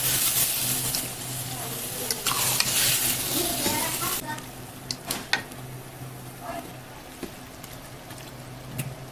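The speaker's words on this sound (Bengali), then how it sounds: "এবার মাংসের সাথে মশলাটা ভালোভাবে মিশাতে হবে।" Mutton is stirred with spice paste in a pot, a spoon scraping and sizzling in bursts, loudest early then quieter with scattered clinks of utensil against the pot.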